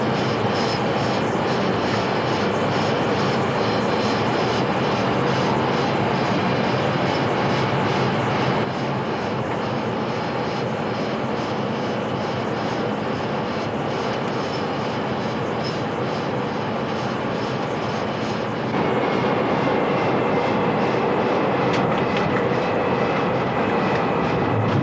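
Aircraft engines of bombers and refueling tankers in flight: a continuous loud, broadband engine roar heard from close inside, steady throughout with slight shifts in tone, no talk.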